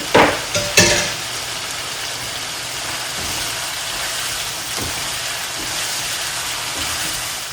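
Ginger and garlic dropped into a hot pan, with a few quick knocks of a spoon at the start followed by a constant, fairly loud frying hiss that runs on steadily.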